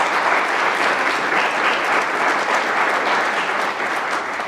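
An audience at a sustainability summit applauds award winners with loud, continuous clapping that stays full and even throughout, with no voices on top.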